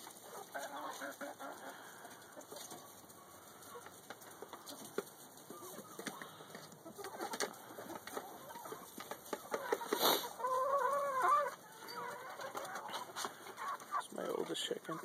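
Backyard chickens cluck and call softly while pecking at fruit, scattered short clucks and one louder squawking burst amid rustling and light tapping, with a person talking at times.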